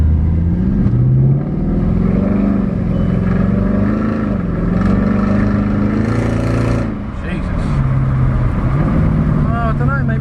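A salvage Mercedes C63 engine runs loudly while driving, its tone climbing and dropping through gear changes as the automatic gearbox shifts, with cabin road noise and a brief dip midway.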